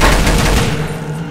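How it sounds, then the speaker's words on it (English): Rapid loud burst of gunfire in the video game Ghosthunt2, aimed at a board, a dense rattling volley with no talking that fades slightly toward the end. "Here, shoot that board."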